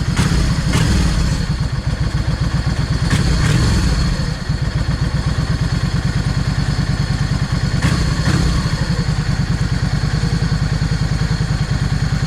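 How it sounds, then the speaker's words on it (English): Yamaha 650 V Star motorcycle engine idling slightly too low, a loud close steady rapid thumping pulse with a few brief clicks and knocks, no voices. "I need to idle this thing up just a little. Because it's idle just a fraction too low."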